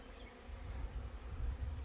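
A low, steady buzzing of many flying hornets around beehives hums continuously, fairly faint, with no voices.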